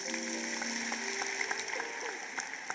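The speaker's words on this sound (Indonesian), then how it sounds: "Kasih tepuk tangan untuk Tuhan." A church congregation at a Sunday service in Surabaya claps together, a dense spread of applause running steadily throughout, with faint musical tones sustained underneath.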